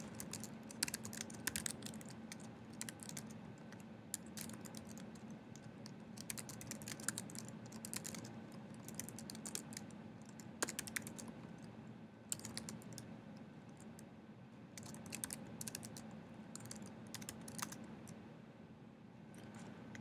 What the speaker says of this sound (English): I did use this command, and I'll go ahead and type that in for you